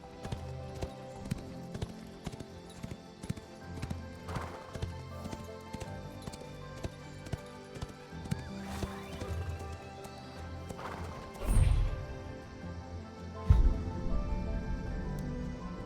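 A horse gallops in the Ashes of Creation video game, steady rhythmic clip-clop hoofbeats throughout with a neigh and a couple of louder crashing thumps near the end.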